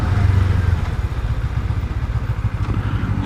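A Suzuki GSX-R motorcycle is ridden at night on a UK road in winter, giving a steady, loud engine drone with low rumble and constant wind noise and no talk.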